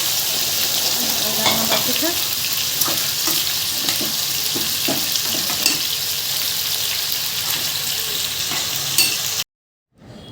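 Potato and chickpea curry cooks in a pan on a home stove, giving a continuous close sizzle with scattered clinks of stirring. The sound cuts off abruptly near the end.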